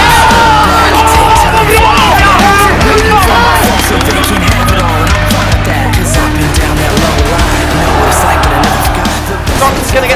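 Loud crowd cheering and yelling at a DreamHack Winter 2013 Counter-Strike esports match, a dense, roaring arena din that carries on without a break, with an excited commentator's voice over it.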